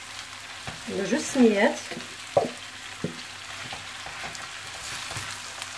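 Salt cod stirred into a pan of browned onions, giving a soft, steady frying hiss and a few scraping stirs, with someone talking over it and a faint tonal hum.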